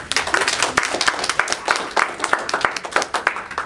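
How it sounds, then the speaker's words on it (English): An event audience gives a round of applause for Debbie, close, crisp individual claps from a modest group forming a lively, uneven patter throughout a few seconds. "one more round of applause for Debbie"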